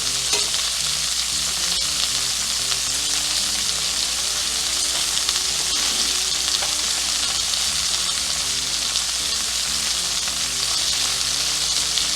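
Butter and rosemary sizzle in a pan around a pan-seared New York strip steak, a loud, dense, continuous crackling fry that holds steady throughout, with no voices.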